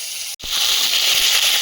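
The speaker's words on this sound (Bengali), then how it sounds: "আদা কোড়াটা তেলে দিয়ে দেবো" Grated ginger hitting hot oil in a pan over a clay stove, a short drop in sound and then a loud, steady hissing sizzle that keeps going, heard close up with no voices.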